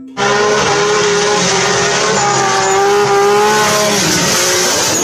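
A race car sound effect: a loud, close engine whine with tires squealing in sustained, wavering tones, shifting pitch as it holds for about five seconds.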